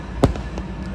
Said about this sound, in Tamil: பட்டாசுலாம் வெடிக்கிறாங்க கைஸ்